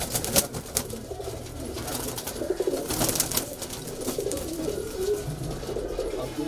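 Kalpare high flyer pigeons coo inside a loft, with several soft, throaty coos repeating close by and overlapping against faint rustling and background noise.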